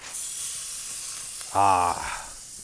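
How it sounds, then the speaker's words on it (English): A prime rib roast sizzles and hisses steadily on a hot grill while searing, close and constant, with a short vocal sound partway through. "Let's listen for the sizzle."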